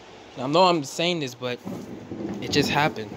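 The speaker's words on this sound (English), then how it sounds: "Also, excuse the thunder" Thunder from a rainy thunderstorm outside rumbles low and distant in the background while a person talks over it.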